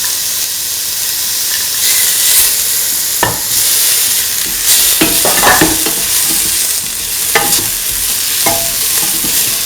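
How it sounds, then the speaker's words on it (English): Tomato pieces tipped into a hot pan for a potato, green pea and coconut stew, then stirred: a steady sizzle and hiss runs throughout, broken by several short scraping, clattering stir strokes close by, with no talk. "Now putting the tomato pieces."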